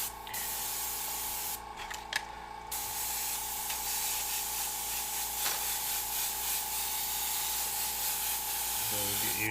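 An airbrush sprays paint in a continuous close hiss, briefly cutting out and restarting, with a faint voice at times in the background.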